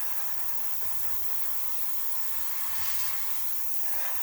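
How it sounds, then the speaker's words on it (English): An airbrush sprays dark green paint onto a 1/48 scale Kinetic F-104J Starfighter model, a continuous close, airy hiss that stays even throughout with no voices. "So we're just going to start spraying the green on"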